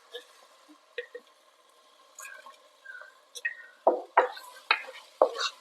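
Tomatoes and green chilies are stirred in a biryani pot, giving faint soft squishes and scrapes that turn into a few louder wet strokes near the end, with a light sizzle underneath.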